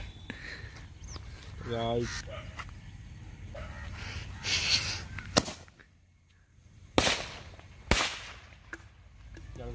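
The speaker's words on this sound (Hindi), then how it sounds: "पटाखा ऊपर के ऊपर है लेकिन पूरा फट गया है" Several sharp firecracker bangs pop at intervals against a faint outdoor background, with a few quieter cracks and brief bits of distant chatter.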